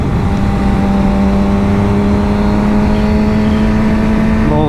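A Nissan 350Z with a bumper cut-out, apparently a drift build, drives along a highway: a loud, steady engine drone with a strong low hum and rising tones near the end, heard from close by with no talk.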